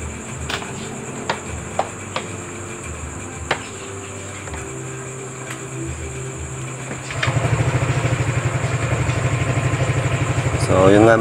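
A repaired Yamaha Aerox scooter fitted earlier with an error code 12 fault cranks and catches partway through, then settles into a steady close pulsing idle, following a stretch of quiet clicks and background insect chirping.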